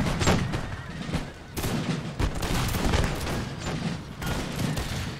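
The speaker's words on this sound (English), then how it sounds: "I've got some line infantry that got caught. Ah, they fired." Massed musket volleys crackle from line infantry in Empire: Total War, a dense ragged fusillade in several loud bursts with rolling booms, and someone talks faintly underneath.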